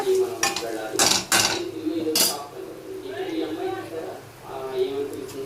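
A spoon scrapes and clinks against a pan while stirring raw banana curry with chili powder and salt, in a few sharp metallic strikes early, then softer stirring under steady talk.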